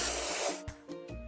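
Spray painting in a kids' construction video game: a loud, bright aerosol hiss blasts for about half a second, then breaks into a few short spurts.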